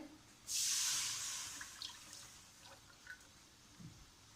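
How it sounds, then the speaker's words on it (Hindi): Half a glass of carrot juice poured into a wok makes one short, bright splash that tails off into a few faint drips, quiet and close. "यहाँ पे हमने कढ़ाई ली है और कढ़ाई में हमने ये आधा गिलास हमने गाजर का जूस डालना है"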